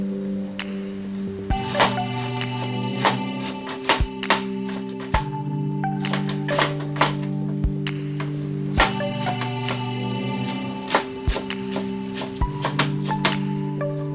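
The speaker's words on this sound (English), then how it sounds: "I'm going to first start with chopping my Chinese cabbage." A knife chops Chinese cabbage on a cutting board in irregular sharp knocks, repeated throughout over steady background music.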